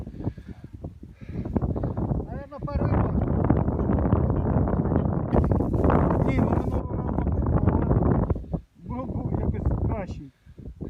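Strong wind buffets a microphone on the bank of the Dnieper river, a loud continuous roar with gusting surges and brief lulls, while voices talk intermittently over it.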